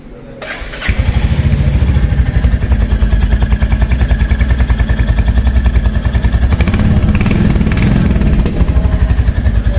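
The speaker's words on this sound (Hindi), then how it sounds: "अभी आपको इसका एग्जॉस्ट नोट्स सुना सकता हूँ," A Royal Enfield Hunter 350 motorcycle starts and settles into a loud, close idle with a rapid, even thumping exhaust beat that holds steady throughout, with no talk over it.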